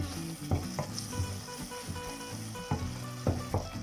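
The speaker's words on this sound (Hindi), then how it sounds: "लहसुन अदरक जो मैंने अभी मिक्स किया था वो अच्छी तरह से भून गया है" Garlic and ginger fry in a pan for Punjabi chole, giving a quiet, steady sizzle broken by regular stirring clinks and scrapes from a spoon.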